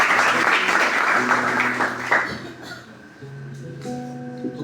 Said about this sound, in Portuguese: Você pode aplaudir mais uma vez ao Senhor?